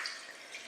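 Red Rhône wine poured into a glass, a soft, continuous liquid trickle lasting under a second, fairly quiet and close, with no talking over it.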